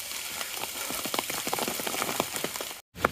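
Rain on the Appalachian Trail, a dense steady patter of drops on rocks and foliage close by. It breaks off briefly near the end, then resumes.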